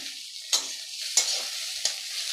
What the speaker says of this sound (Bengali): আর এই পাশে আমার পেঁয়াজগুলো ভাজা হয়ে যাচ্ছে